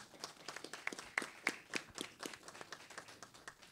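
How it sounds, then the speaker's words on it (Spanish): Scattered hand clapping from a small audience at a book presentation on the Mexican federal constitution, faint and uneven with individual sharp claps standing out, no talking. "Un fuerte aplauso a la maestra Claudia Curiel, secretaria de Cultura, por favor"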